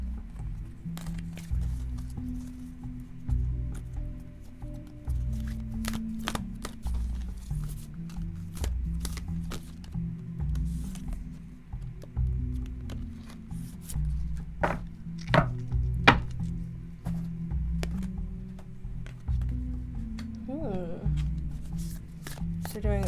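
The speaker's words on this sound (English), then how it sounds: "let me shuffle these" Oracle cards are shuffled and handled up close, with repeated crisp riffles and taps over a low background hum.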